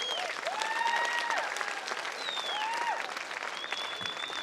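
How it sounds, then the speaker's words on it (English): Sustained crowd applause at a community unity event in Gympie, a dense, even roar of many hands clapping heard at a distance, with whistling tones weaving through it. "Another round of applause for Lou"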